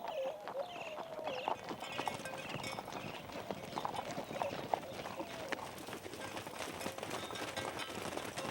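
A horse ridden by a Sonoran vaquero clip-clops steadily through the Sierra foothills, its hoofbeats a continuous moderate patter close by with an outdoor hush behind.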